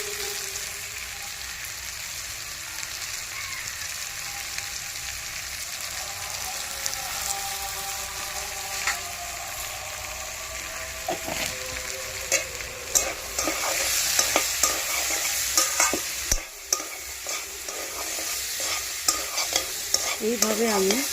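Chickpeas frying in chana masala spices in a pan, stirred continuously with a steady sizzle and scraping, the spoon strokes growing busier and louder toward the end; no one speaks.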